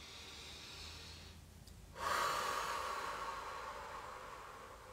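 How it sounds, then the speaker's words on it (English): A person takes a deep breath during a guided meditation session: a quiet, hushed inhale, then a louder, breathy exhale that swells and slowly fades over a few seconds, close to the microphone against faint background hiss. "let's take a nice deep breath again."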